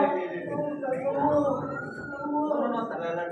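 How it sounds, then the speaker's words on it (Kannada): An ambulance siren sounds faintly and distantly during an emergency care skill lab drill at a hospital, mostly under close voices talking. "ಆಂಬುಲೆನ್ಸ್ ಬರ್ತಾ ಇದೆ"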